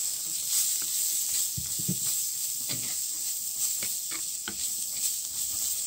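Chopped purple hyacinth beans sizzle in a spiced pan with a steady close hiss, broken by a few soft knocks and scrapes.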